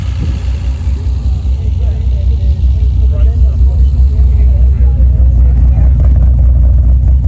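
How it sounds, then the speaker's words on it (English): A classic Alfa Romeo GTV engine runs close and loud with a deep, steady idling rumble that gets slightly fuller partway through, while people talk faintly under it. "I did film a couple clips of my dad's car running"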